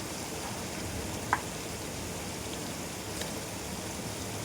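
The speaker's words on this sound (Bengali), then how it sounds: "এবার কিন্তু আমি আস্তে আস্তে চিকেনটা আমি দিয়ে দিচ্ছি" Marinated chicken pieces sizzle in a frying pan for chicken do pyaza, a steady, even hiss of hot oil with a faint pop or two, continuous and without voices.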